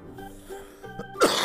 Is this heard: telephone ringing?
no